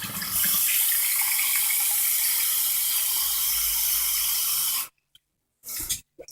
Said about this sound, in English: Now you fill it with water, of course.